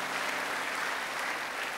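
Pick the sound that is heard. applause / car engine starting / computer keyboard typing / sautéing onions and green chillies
applause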